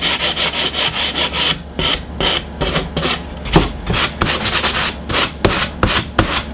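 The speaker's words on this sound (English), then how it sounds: "we'll do a quick sanding on it just to remove some of the white paint" Steady rhythmic sanding on painted wood to remove white paint, quick back-and-forth rasping strokes, loud and close, with no one talking.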